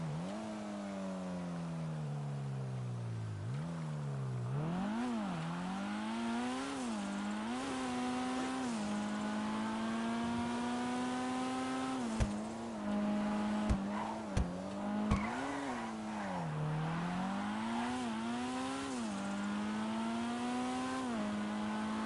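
A Type R car in the video game GTA Online, its engine revving and climbing through gears in repeated rising whines, steady and loud for the whole stretch, with a few sharp knocks midway and no voices.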